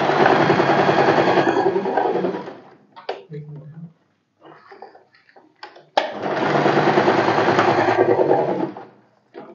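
A sewing machine double-stitches strips of fabric in two loud, steady runs, with a quiet pause between them filled with small handling clicks and a few soft bursts of noise.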